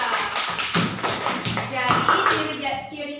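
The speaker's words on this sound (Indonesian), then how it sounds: "tepuk tangan buat Kaira." A classroom of elementary school students applauding a student named Kaira, a short burst of clapping mixed with talking voices.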